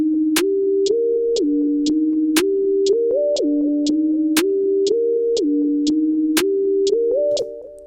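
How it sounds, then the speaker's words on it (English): A programmed beat with a hi-hat ticking steadily on every beat and a snare on beat 3 plays under a looping synth melody, even and close. "There's my hi-hat and then my snare on beat 3."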